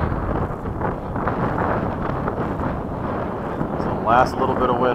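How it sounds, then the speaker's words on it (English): Wind gusts across an open flying field at day's end, rumbling steadily against the microphone as a broad, loud roar, with a brief tonal whine near the end. "It's the last little bit of wind before the end of the day."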